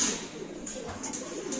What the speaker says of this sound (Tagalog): Gusto mong release yung mga ibon.